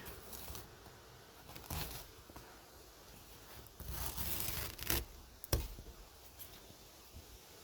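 Peel ply being torn away from a fibreglass layup, giving a few short rough ripping bursts with quieter scratchy rustling between them, close and fairly soft, with no talking.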